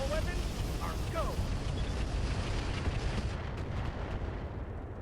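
Mech weapons firing in the RogueTech game, a thick rumbling barrage of cannon and missile blasts that runs the whole clip with no pauses and no talk.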